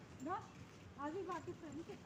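A dog gives a few short, high-pitched barks and yelps in two quick bursts, close by, with a whiny edge.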